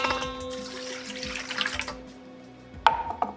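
Milk pouring into a large bowl for a Yorkshire pudding batter: a soft liquid splash and trickle for about two seconds, then a sharp clink and a quieter knock.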